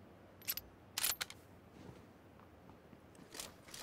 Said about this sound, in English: Let me reload this real fast.